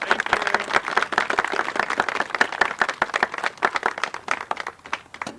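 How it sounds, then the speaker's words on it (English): An audience claps at a tornado commemoration day of recognition, many distinct hand claps forming steady applause that thins and fades toward the end, fairly close and clear. "let's give Director Peck another round of applause"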